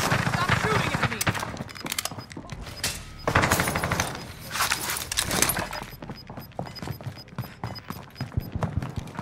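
Rapid gunfire in the video game Call of Duty: Modern Warfare, with dense bursts of automatic shots and sharp cracks crowding together, loud and close, then thinning out toward the end.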